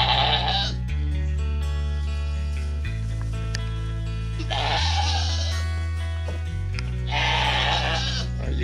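Goats bleat repeatedly inside an enclosed pen, with loud, close wavering calls recurring in bursts over a low steady drone.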